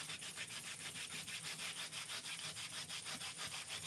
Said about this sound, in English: And I'm just going to sand this for a little bit, just see if I can't get some of this paint off,